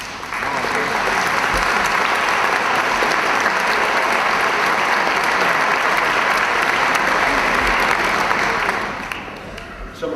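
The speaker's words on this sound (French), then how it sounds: "nous pourrions leur donner une petite main d'applaudissement" Loud, sustained audience applause fills a hall at the Desjardins de l'Érable annual general meeting, a dense wash of many hands clapping for about nine seconds before tapering off.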